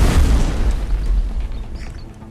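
A heavy explosion from enemy explosives in the Mist Survival game booms at the start, then its deep rumble rolls on and slowly fades over a couple of seconds, with no talk over it.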